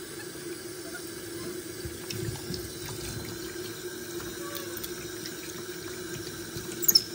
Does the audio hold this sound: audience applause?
no